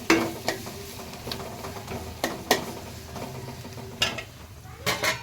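Ginger garlic paste sizzles in a pan for Andhra-style chicken curry, a steady close frying hiss broken by several sharp scraping stirs of a utensil against the pan.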